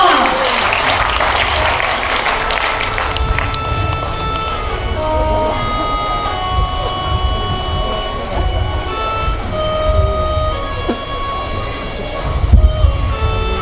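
Loud applause from an assembled crowd at a gathering, a thick burst of clapping at the start that thins out while voices and background activity continue over it.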